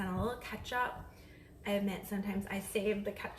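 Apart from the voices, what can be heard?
No distinct noise like a dog, phone or traffic.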